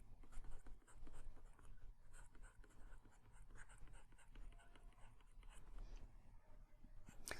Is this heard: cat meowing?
no